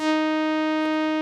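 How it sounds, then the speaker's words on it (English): A Synth1 software synthesizer plays two sawtooth-wave oscillators together as one steady, bright, buzzy sustained note with rich harmonics, heard alone and evenly loud. "the other oscillator here is already a sawtooth"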